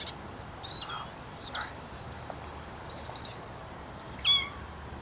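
Kittens meowing in a TV commercial, several thin, high mews in a row at moderate level over quiet background hiss, ending with one sharper, louder cry.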